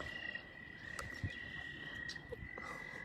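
A frog croaks at a pond in a nature center in spring, the faint, scattered calls set against a steady high insect-like hum in quiet open air, with no talking.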